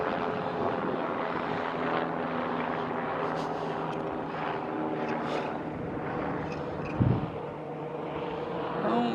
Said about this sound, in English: Got a loud helicopter up here.